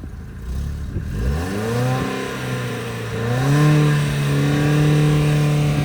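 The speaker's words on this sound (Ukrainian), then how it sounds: "Газни, щоб я показав людям." A Ford Focus 2 car engine revs up from idle, its pitch climbing and wavering, then holding at a higher steady drone before rising once more, close and clear with no talk.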